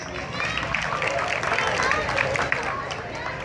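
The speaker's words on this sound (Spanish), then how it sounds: "las recibimos con un muy fuerte aplauso" Steady, dense applause from an audience at a dance marathon in Posadas, welcoming a dance school troupe, with sustained clapping and crowd murmur filling the whole stretch at an even, fairly loud level.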